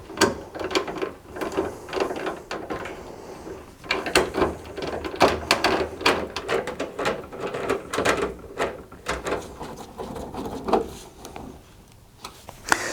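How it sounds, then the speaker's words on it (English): Screws are refitted into the back panel of a clothes dryer cabinet, producing close, irregular clicking, ratcheting and metallic ticking that carries on steadily, with no talking. "I can now refit the rest of the screws"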